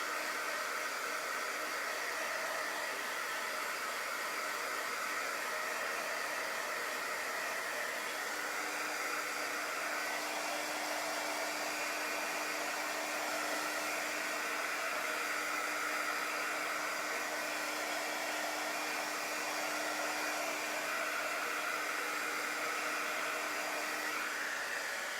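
A hair dryer blows steadily and continuously for about 25 seconds, drying chalk paste on a bunny wreath, as a constant airy whir with a faint hum, alone without talk.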